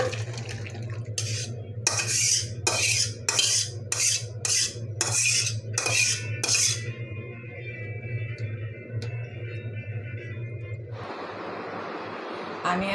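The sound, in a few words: pouring rohu fish curry with eggplant and potato from the pan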